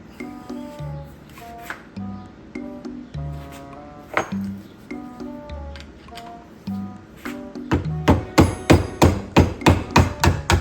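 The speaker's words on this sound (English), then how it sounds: "so we will have to use screwdriver and tap this out" A screwdriver is struck with a hammer to tap a part out of a 1965 Ford Thunderbird power steering gear box held in a vise, giving sharp metallic blows in spaced bursts that turn into a fast, loud run of strikes at the end.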